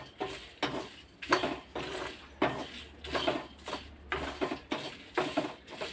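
A spoon scrapes and stirs dry-roasting spices for sonti karam in a metal pan after the stove is switched off, giving a steady rhythm of close scraping strokes about once a second.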